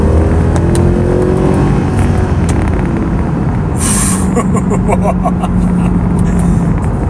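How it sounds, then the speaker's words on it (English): A Mercedes C63 AMG engine growls under full throttle after a downshift, heard loud from inside the car as a steady, rising drone with a brief hiss of rushing air midway. "let's downshift and floor it."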